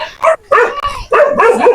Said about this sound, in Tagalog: Tingnan nyo, unang aso.